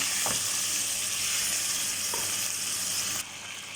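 Chicken pieces frying in a hot pan for a Filipino-Japanese yakidobo, giving a loud, steady, close sizzle with a couple of faint stirring knocks, and the hiss drops a little near the end.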